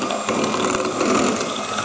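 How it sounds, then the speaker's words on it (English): Electric mixer whisking caster and brown sugar together at slow speed for cookie dough, a steady close mechanical whir with a faint rattle running continuously, no talk over it. "So I've got my electric mixer there, so I'm just going to, a nice slow speed, just gently whisk it all together."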